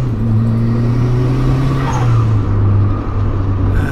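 A Honda Civic Turbo, 331 hp, engine revs and accelerates close by, a steady loud drone with rising tones, no voices.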